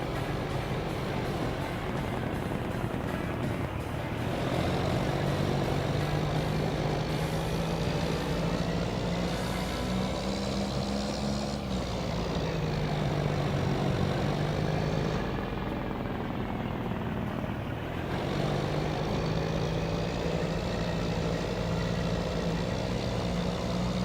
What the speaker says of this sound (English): This truck is pretty loud